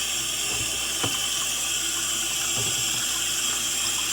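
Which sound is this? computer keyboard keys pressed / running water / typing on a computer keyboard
running water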